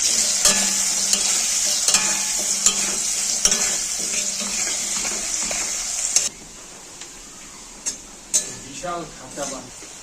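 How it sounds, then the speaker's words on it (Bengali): Potatoes frying in hot oil with turmeric and salt give a steady close sizzle, broken by repeated scrapes and taps of a spatula stirring the pan. The frying quiets partway through, and a voice is heard briefly near the end. "অল্প একটু হলুদ, নুন দিয়ে আলুটাকে লাল লাল করে ভেজে নেব।"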